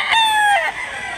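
A local Bandid rooster, about ten months to a year old, crows at a Barili, Cebu poultry sale. The crow is loud and close, a single sustained call that rises and then trails off.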